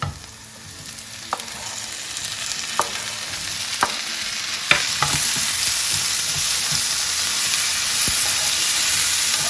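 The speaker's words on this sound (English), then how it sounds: "now I'm going to add the tomatoes and pepper." Tomatoes and pepper fry over ginger and garlic in a hot pan, a loud, steady sizzle broken by several sharp clicks and scrapes of stirring, close up and with no talk.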